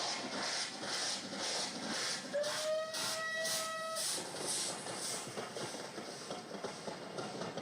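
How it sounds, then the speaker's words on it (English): A Bulleid Pacific steam locomotive hauling a main-line train, its three cylinders working hard, gives a steady loud rumbling chuff with rhythmic beats, and a brief whistle tone sounds midway. "There's the good sound of the 3 cylinders working hard."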